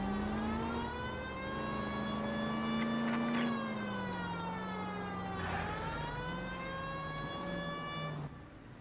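Police car siren in the video game L.A. Noire, a loud wailing tone rising and falling steadily for about eight seconds, with engine noise beneath, cutting off near the end.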